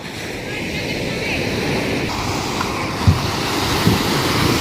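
Sea waves washing onto a beach roar in a steady, loud wash, with wind buffeting the microphone and a couple of soft thumps near the end.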